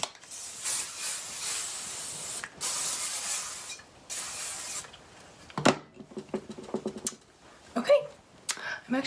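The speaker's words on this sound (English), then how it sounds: "And you just want to spray." Several short bursts of hairspray hiss close by onto brushed hair, followed by light rubbing and handling noises.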